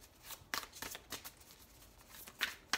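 Tarot cards shuffled repeatedly: a string of crisp, close riffles and slaps in an uneven rhythm, with two sharper snaps near the end and no voices.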